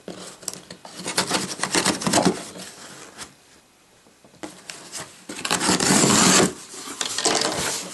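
A box cutter slices open a FedEx shipping package holding an ASUS Transformer Book T100 tablet: irregular bursts of scraping, rasping cuts and tape rustle, loud and close, separated by brief quieter pauses.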